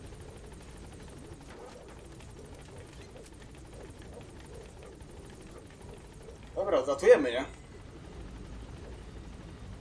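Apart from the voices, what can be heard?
helicopter in Metal Gear Solid V video game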